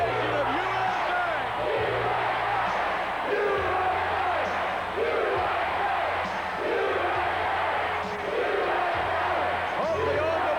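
Wrestling arena crowd at a Royal Rumble pre-show chanting USA in repeated rhythmic waves, loud and roaring, with an announcer's voice over it.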